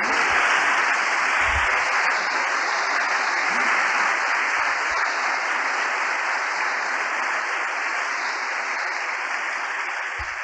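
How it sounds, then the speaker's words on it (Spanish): A church congregation applauds steadily and loudly, a dense continuous wash of clapping that holds for about ten seconds and tapers only slightly at the end. "Un aplauso para el Señor."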